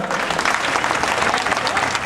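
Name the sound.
applause for the giant maker Manel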